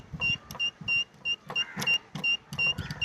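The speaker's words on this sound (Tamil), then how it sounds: "இப்போ நான் பஸ்ஸரை கனெக்ட் பண்ணிட்டேன். இப்போ நான் சுத்துறேன்," A small buzzer powered by a hand-spun hydro-electric generator sounds in short, uneven pulses of shrill tone, rising and dropping as the crank turns.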